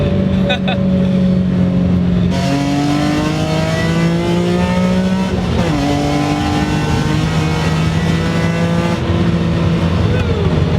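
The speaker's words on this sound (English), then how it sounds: "Revving to 8 is so glorious." A BMW E46 M3 engine revs high toward 8,000 rpm from inside the car, a loud, sustained rising wail that climbs through the gears with brief shift breaks, raspy and strong throughout.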